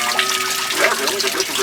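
Mineral water from the Old Faithful fountain at the Iron Mountain Iron Mine pours and trickles steadily close by, a continuous bright splashing with faint voices underneath.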